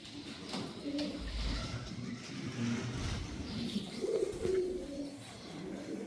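An elderly Rampuri Kalanji pigeon coos softly in a breeder's loft, low repeated calls mixed with faint chirps from other birds and a distant car hum.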